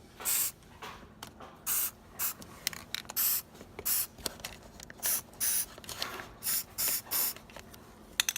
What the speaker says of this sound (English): Now I'm also going to spray a little bit underneath it